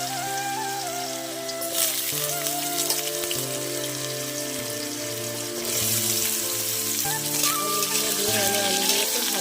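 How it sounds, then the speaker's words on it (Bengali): Potato pieces sizzle steadily in hot white oil seasoned with five-spice tempering, a continuous close crackle and hiss with spattering bursts throughout, alongside faint background tones. "আলুগুলো দিয়ে আমি আলুগুলোকে ভালো করে ভেজে নেব।"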